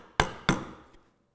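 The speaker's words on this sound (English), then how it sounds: "Turn my chisel around, back up here, just take this a little bit deeper here," Two sharp chisel strikes into wood on a frame saw part, spaced about a third of a second apart, close and fairly loud, each with a short decaying ring.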